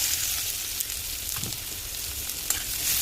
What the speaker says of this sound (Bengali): এইবার ওর মধ্যে দিয়ে দেবো আমি পেঁয়াজ